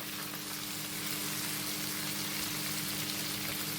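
Onions frying in a pan for pickled curried hake, a steady dense sizzle with a constant low hum beneath, unbroken and fairly close throughout, with no voices.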